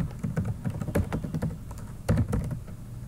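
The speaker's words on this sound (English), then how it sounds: "So we'll just type in the email address and" Rapid, irregular clatter of keys being typed on a computer keyboard, close by, with short pauses between bursts.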